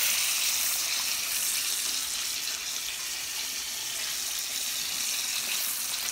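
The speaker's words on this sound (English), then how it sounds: "it's not gonna take very long because the grease is extremely hot. It's taking the place of a deep fryer" Fish frying in extremely hot grease in a cast iron skillet, a loud, dense, continuous sizzle and crackle held at an even level throughout.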